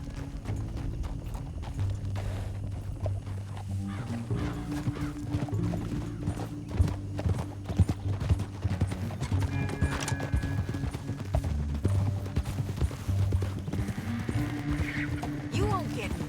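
Horse hooves clip-clop in Red Dead Redemption 2, giving a steady rhythmic trot of clear, moderately close hoof strikes that carries on throughout, with some tack rattle and a brief whinny, while voices talk over it.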